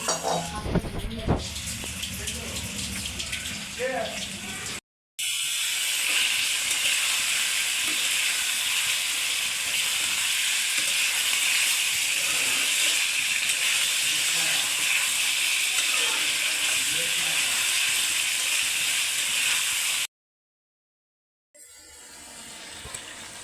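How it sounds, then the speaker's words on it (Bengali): Loud continuous sizzle and steamy hiss from baim eel fish braising in a pan, with clattering stirring at the start, one brief cut and a quiet gap near the end. "বাইন মাছ কষানো হয়ে গেছে"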